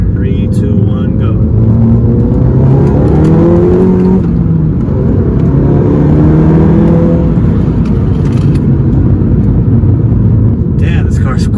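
Car engine accelerating hard through the gears with an aftermarket air intake fitted, loud and close from inside the cabin, rising revs with brief dips at each shift over a continuous roar.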